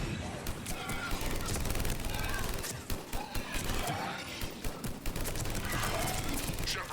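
A shootout in the video game Mass Effect 3, with dense bursts of gunfire and crashing impacts filling the whole stretch at steady loudness, mixed under game sounds and voices.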